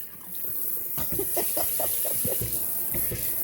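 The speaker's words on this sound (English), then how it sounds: "the water so strong coming out of there" Strong stream of water gushing from a newly installed kitchen faucet into a sink, a steady loud splashing rush with brief spattering bursts.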